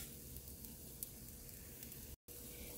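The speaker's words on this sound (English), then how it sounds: "just let this boil" Pomegranate balsamic glaze bubbles and hisses in a pot on the stove, a steady close crackling sizzle with faint pops, broken by one brief dropout near the end.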